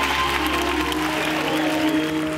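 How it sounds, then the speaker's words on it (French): Audience applause at an evening stage show, a steady wash of clapping mixed with a low sustained musical drone underneath throughout. "On les applaudit bien fort."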